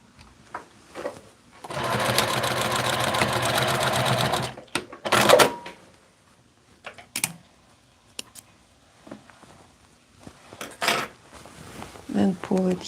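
A sewing machine stitching fabric in a burst of rapid, steady mechanical clatter lasting about two seconds, followed by short separate runs of stitching and small handling clicks as the fabric is repositioned.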